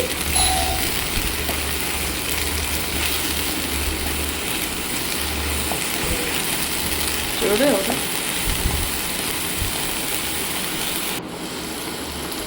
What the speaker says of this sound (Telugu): హై ఫ్లేమ్లోనే వేయించుకోవాలి కొంచెం కలర్ చేంజ్ అయ్యే వరకు